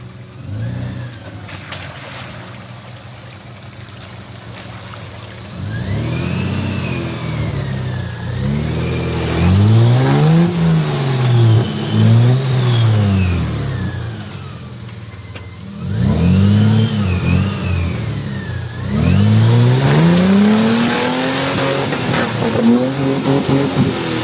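An off-road Toyota Land Cruiser 80 Series engine revs hard in repeated rising and falling surges, loud and close, with splashing and churning as it pushes through a puddle.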